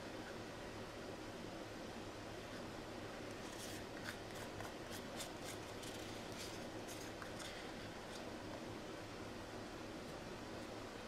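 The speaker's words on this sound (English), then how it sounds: "Sorry if you can hear the air conditioner on in the background." An air conditioner runs steadily in the background indoors on a hot day, a faint continuous hiss and low hum, with some brief scraping or scratching sounds over it and no one talking.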